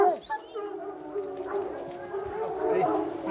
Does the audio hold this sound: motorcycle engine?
no